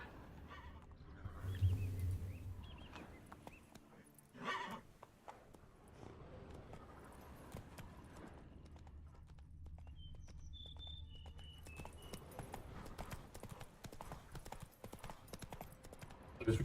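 Roach the horse in The Witcher 3 game, hooves clopping at a steady pace, fairly quiet, with a few louder thumps early on and faint bird calls later.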